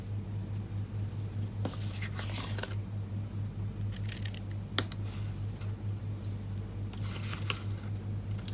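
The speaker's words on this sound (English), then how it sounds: "I'm going to bring some scissors in" Scissors snip paper into tabs a few times in short crisp cuts over a steady low hum, fairly quiet and close.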